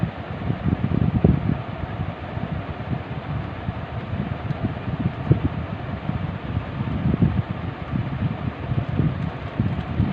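A sewing machine hums steadily as it stitches a seam on an angrakha-style frock, producing a continuous, close, low rhythmic rumble that barely changes and has no voices over it.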